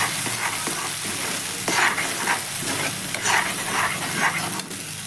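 Thick masala paste with cashews sizzles in a little oil with asafoetida as a spoon stirs it, giving a loud frying hiss broken by repeated scraping strokes and no talking.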